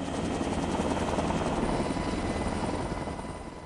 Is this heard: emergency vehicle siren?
no